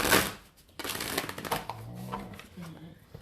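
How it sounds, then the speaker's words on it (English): Tarot cards being shuffled close by, rapid papery riffling and flicking in irregular bursts, with voices speaking over the shuffling. "We're shuffling loud. At least we're shuffling together."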